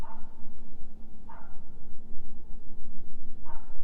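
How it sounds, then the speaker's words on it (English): A neighbor's dog in a New York City building barks a few times, sharp, spaced yelps at moderate distance over a steady low hum. "That's my neighbor's dog."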